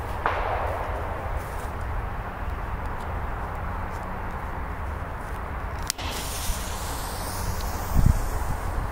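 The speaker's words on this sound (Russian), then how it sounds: "По-моему, два взрыва." A Korsar 4 firecracker goes off twice outdoors: a sharp crack early on and a second, louder bang several seconds later, with steady wind-like noise throughout.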